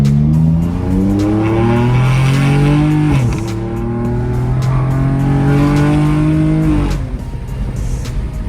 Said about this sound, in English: The throttle response and how quick the car picks up.